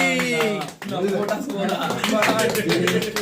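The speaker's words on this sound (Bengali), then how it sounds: "হাততালি।" At a birthday celebration, people clap in a quick, uneven patter close by while voices talk and call out over it.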